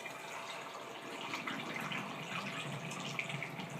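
Homemade kombucha pours through a funnel into a storage bottle, a steady, close trickling and gurgling stream of liquid that holds even throughout without any talk.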